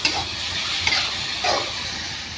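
Ground garlic and chillies frying in a pan for a prawn chutney, a steady close sizzle with brief stirring scrapes, no talking.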